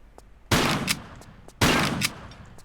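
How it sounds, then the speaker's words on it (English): Two loud shotgun blasts from Lara Croft in Tomb Raider III, fired about a second apart at enemies, each a sharp close crack with a short decaying tail. "Gonna use the shotgun to kill enemies here."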